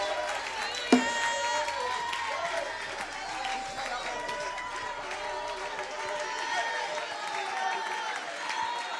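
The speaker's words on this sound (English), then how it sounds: "Will you clap your hands to God and shout with a triumphant voice in this place?" A church congregation claps and shouts during a revival service, a steady roar of hands and voices filling the room with a preacher speaking over it.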